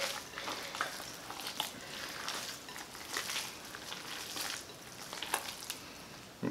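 Bare hands squish and knead ground beef and sausage for meatloaf, with eggs and cheese, in a steady wet, sticky churning that runs close and continuous throughout.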